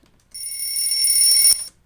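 Alarm clock ringing in a bright, piercing metallic trill over a swelling backwards cymbal, starting abruptly, holding steady for about a second and a half, then cutting off suddenly.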